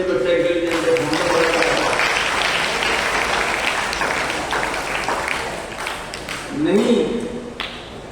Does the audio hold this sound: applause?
yes